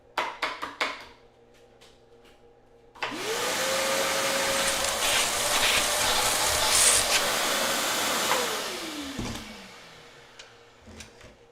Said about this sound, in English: We just do a quick vacuum.